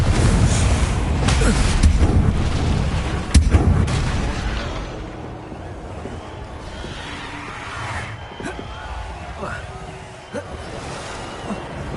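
Confringo blasting curse in a Harry Potter video game, a loud booming blast with a rumbling roar that slowly fades, scattered crackles and pops afterward, and a voice heard near the start.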